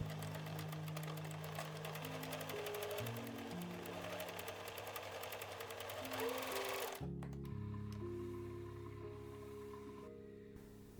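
Sewing machine stitching fabric for a one-piece drawstring gift bag, a steady motor whir with rapid needle chatter running nonstop at close range, briefly changing pitch partway through.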